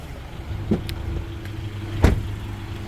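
A 2020 Mitsubishi Outlander ES AWD with its 2.4-litre MIVEC engine sits idling on a hot day, a steady low hum broken by a couple of brief clicks or knocks, with no talking.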